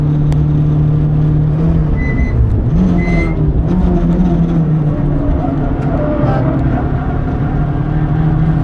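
A turbocharged Renault Clio 182 drones loudly and steadily at speed on the Nürburgring. The engine pitch dips briefly and then climbs again as the revs shift.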